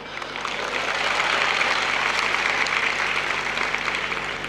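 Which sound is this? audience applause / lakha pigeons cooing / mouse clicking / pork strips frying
audience applause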